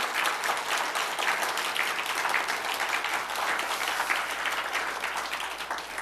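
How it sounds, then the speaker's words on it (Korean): A church congregation at a Sunday morning worship service gives a long round of applause, dense overlapping claps holding steady throughout without speech. "주님께 영광의 박수 올려드립니다."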